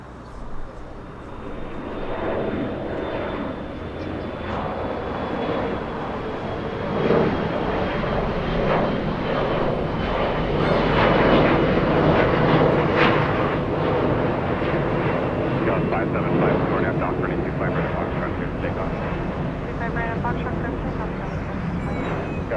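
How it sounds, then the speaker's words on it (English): A SkyWest Embraer E175 regional jet arrives at Los Angeles International Airport from Sacramento, its broad engine roar swelling and holding steady over about twenty seconds, heard from a distance. "SkyWest 6296 flying in from Sacramento. That's an Embraer E175."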